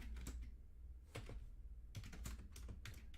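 Computer keyboard typing in a few quick bursts of clicky keystrokes separated by short pauses, faint and close, with no talk.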